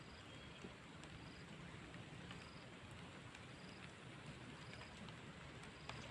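Rain falls outdoors at a fishing spot as a faint, steady hiss of drops with occasional light ticks, no voices present.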